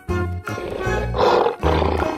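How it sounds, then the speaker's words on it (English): A tiger roars loudly and close in three deep, rough, drawn-out bursts with short gaps between them, heard alone with no talking. "tiger,"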